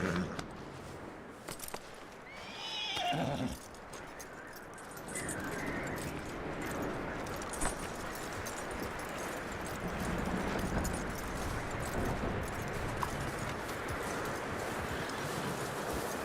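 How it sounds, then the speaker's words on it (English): Horse hooves clip-clop steadily in a busy outdoor scene in the video game Red Dead Redemption, with a brief whinny early on and faint birds in the background. "That looks like a decent horse."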